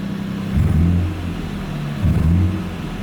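A Nissan Cefiro A31 engine revs twice in short bursts over a steady idle, its uneven, stumbling note suggesting a misfire, loud and close with no talking.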